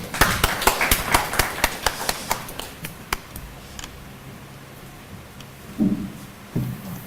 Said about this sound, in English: So let's have a round of applause for him as well